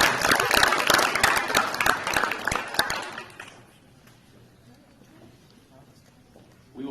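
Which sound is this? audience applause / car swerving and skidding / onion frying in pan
audience applause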